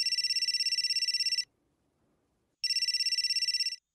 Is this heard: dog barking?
no